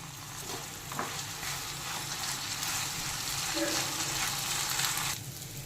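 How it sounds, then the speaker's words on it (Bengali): Rice frying in a pan with salt and ginger paste while being stirred for milk pulao, a steady close sizzle with soft scraping, brief faint voice traces underneath. "এবার চাল সামান্য একটু নেড়ে একটু ভেজে নেব।"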